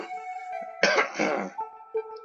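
A loud, rough cough burst lasting about a second, followed by a shorter cough, with quieter background sound before and after.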